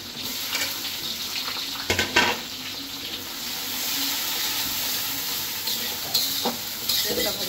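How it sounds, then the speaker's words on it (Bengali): Chicken pieces sizzling in hot oil in a pan while being stirred for chicken kacchi biryani, a steady close frying hiss broken by scraping stirs and clinks of the utensil, with no voices. "ভাজা ভাজা হোক,"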